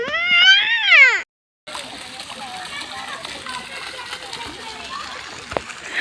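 Children splash about in water: a child's high shriek comes first, then after a brief gap a continuous busy wash of splashing and sloshing carries on steadily.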